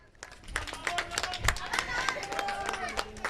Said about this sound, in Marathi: त्यांच्यासाठी देखील सर्वांनी चोरा टाळ्या वाजवायचे